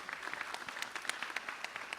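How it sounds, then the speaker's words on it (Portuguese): Audience at a criminal law conference gives a round of applause, fairly faint and distant, with distinct individual claps popping out of a continuous patter. "peço uma salva de palmas."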